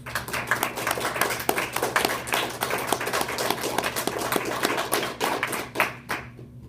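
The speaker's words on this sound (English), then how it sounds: "round of applause" Applause from a small audience at a talk on SNPs and diseases, a moderate round of individual claps close by, steady for several seconds before thinning out at the end.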